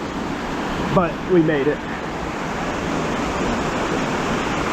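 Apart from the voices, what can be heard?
river flowing out of the mountains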